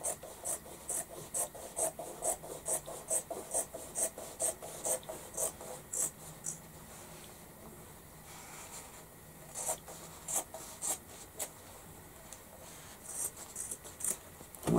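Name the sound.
scissors cutting denim jeans along a seam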